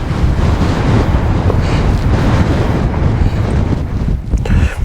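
Strong gusting wind buffets the microphone on an exposed mountain ridge near Red Pike above Buttermere, a steady loud roar with rumbling low-end pressure throughout and slight dips toward the end, no voices.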